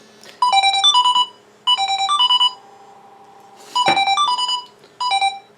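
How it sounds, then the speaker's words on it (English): A mobile phone ringtone plays a bright repeating melodic phrase in four bursts separated by short pauses, loud and close, with a brief thump between the later rings and no voices. "Naturally, my phone is ringing every time I try to do a video."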